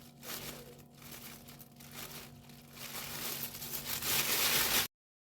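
A plastic oven bag, packed full of meat and vegetables, crinkles and rustles close up as it is tied shut, with steady crackling that builds louder toward the end before stopping abruptly.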